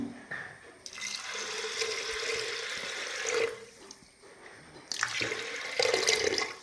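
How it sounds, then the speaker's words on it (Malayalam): Coconut milk pours steadily into a pressure cooker for cooking coconut rice, a continuous close liquid splashing and gurgling that swells and eases across several seconds with no talk. "അപ്പോൾ അത് നമുക്ക് പാലാദ്യം ഒഴിച്ചു കൊടുക്കാം"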